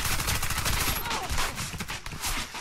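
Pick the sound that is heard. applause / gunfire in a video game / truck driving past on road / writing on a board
gunfire in a video game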